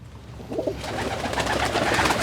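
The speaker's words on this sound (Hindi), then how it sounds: "इसमें वाइट पिजन है, कबूतर हैं, कबूतर जी" Soft, low coos of white pigeons close by on a farm, blending into a rustling, fluttering background.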